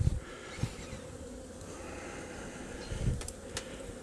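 Honey bees crawling and feeding on a frame of honey from an open hive, a faint, low buzzing hum with a few brief louder bursts, close by and with no voices.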